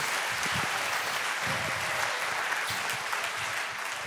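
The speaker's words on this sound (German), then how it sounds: "Applaus" Audience at a summer Bible school gathering applauding, a dense continuous clapping crowd filling the whole clip at close range.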